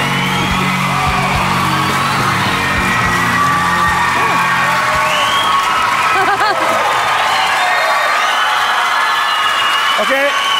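A television talent show audience at X Factor Norway claps and cheers loudly, a dense continuous roar of applause with whoops and yells that fills the whole stretch.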